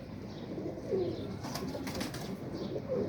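Pet pigeons, including a prized pair, coo softly nearby in a few short, rolling calls over a steady background murmur, with no talk.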